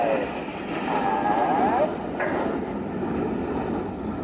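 Red Arrows jets of the Royal Air Force aerobatic team roar past at an air show, a broad, rushing engine noise with a sweeping pitch shift as they pass overhead; a commentator talks over it.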